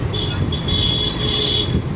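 Train rolling past close by with a steady loud rumble and a high metallic wheel squeal held across the whole stretch.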